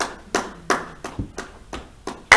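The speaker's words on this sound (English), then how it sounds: "I'm going to ask everybody to clap." Sparse clapping for a seller at a sale: about seven separate sharp claps at a steady, unhurried pace, fairly close, with no talking over them.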